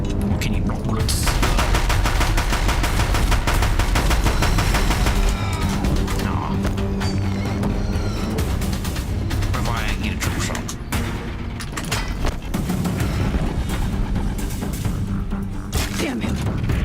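Rapid bursts of gunfire from the Horizon Zero Dawn video game fill the whole stretch, loud and dense, with crashes and booms mixed into the steady barrage.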